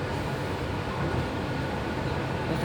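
A continuous low rumble and steady rushing noise from inside a moving train in Spain, even and unbroken throughout with no talking.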